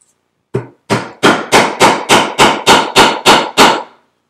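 Hammer striking a rivet setter to set a magnetic snap closure on a handmade wallet, about ten sharp, loud, evenly spaced blows in quick succession, close up with silence before them.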